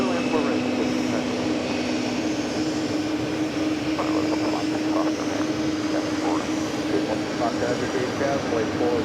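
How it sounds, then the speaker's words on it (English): A steady aircraft engine drone rolls across a busy JFK airport apron, with planes including an Airbus A220-100 taxiing nearby; the broad hum stays constant and loud throughout, with faint voices in the background. "A lot of aircraft moving around, including that A220-100"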